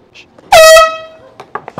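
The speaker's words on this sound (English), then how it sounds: "You told him that I give you the idea of blowing air horn in his face." An air horn blasts once at close range as a prank, a loud, sustained, blaring tone lasting under a second before fading, followed by brief scuffling sounds.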